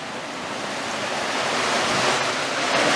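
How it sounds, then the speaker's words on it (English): Clarified effluent at a wastewater treatment plant spilling over clarifier weirs: a loud, continuous broadband rush of falling water that builds slightly, steady and close, with no talking. "The clarified effluent over the top weirs will head out through disinfection and out to the Fox River."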